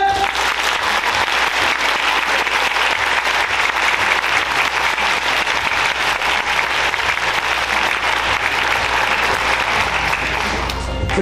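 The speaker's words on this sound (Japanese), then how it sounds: "じゃあ対する赤コーナー伊藤さんに拍手。" Steady, loud audience applause for the red-corner contestant at a museum curators' rap battle in Okayama, continuous dense clapping that holds for about eleven seconds before ending abruptly.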